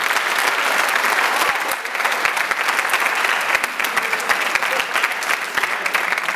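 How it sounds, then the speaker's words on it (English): Sustained audience applause at a high school seniors honors night, steady dense clapping filling the room for several seconds with no break. "Give them another round of applause."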